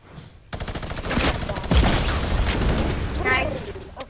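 Rapid video game gunfire while shooting at an enemy, loud dense bursts of shots starting abruptly and running nearly continuously, with players talking over the shooting.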